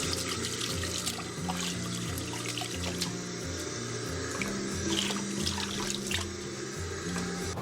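Tap water runs steadily over nine-belly fish (Bombay duck) being rinsed in a kitchen sink, a close, continuous splashing stream with small shifts as the fish are moved under the flow.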